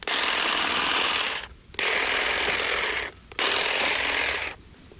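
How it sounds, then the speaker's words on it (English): A Saker cordless hedge trimmer cuts through weeds in three long buzzing runs, its blades chattering loudly and close, with brief dips between passes and no talk. "So it goes through these weeds pretty darn well."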